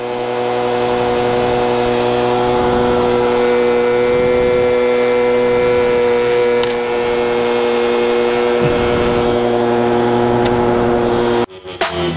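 An Aprilia scooter engine runs loud and close with a steady droning tone, holding nearly constant before cutting off abruptly near the end.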